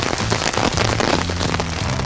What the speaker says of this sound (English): this is actually an insane amount of rain